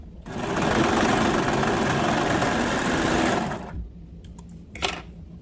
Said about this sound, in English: I am going to go back over it with my serger